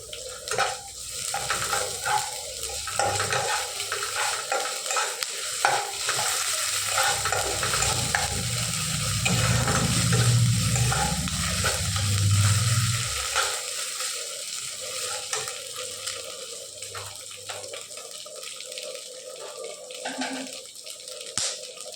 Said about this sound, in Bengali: দেখো আমার পেঁয়াজটা লাল লাল করে ভাজা হয়ে গেছে